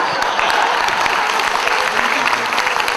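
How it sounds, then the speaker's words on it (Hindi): A crowd breaks into loud, sustained applause, dense clapping filling the whole moment without pause. "जोरदार तालियां"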